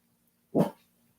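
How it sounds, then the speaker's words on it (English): A pet dog sitting on a windowsill gives one short, sharp bark, close and fairly loud, with quiet on either side. "This is her killer bark right here."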